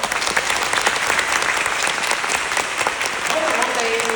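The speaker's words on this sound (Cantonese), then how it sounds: "俾啲掌聲佢哋好唔好？" A theatre audience applauds warmly at a stage play's curtain call, steady sustained clapping from a full house that carries through without a break, with a voice briefly heard near the end.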